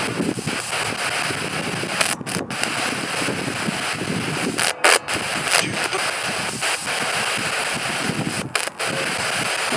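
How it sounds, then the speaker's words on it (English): Steady wind buffets a microphone outdoors in daytime, a continuous broadband rush with brief dropouts and gusty swells, and no clear speech over it. "The wind is blowing"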